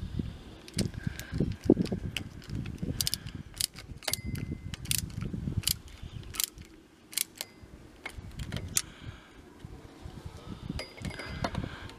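Hand tools working the nut and screw of a vintage Hercules bicycle brake as it is tightened gently, giving a string of crisp metallic clicks and ratcheting ticks close to the microphone, with no talk.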